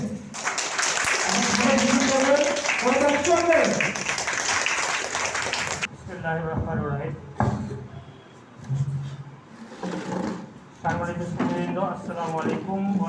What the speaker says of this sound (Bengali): একটা জোরে করতালি